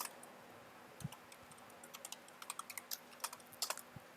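Computer code is typed rapidly on a keyboard. Close, crisp key clicks come in quick, irregular bursts against a faint steady hum, with no voices.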